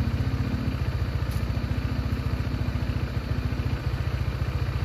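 A motorcycle engine idling close by, a steady loud low rhythmic putter with continuous mechanical rumble and no speech over it.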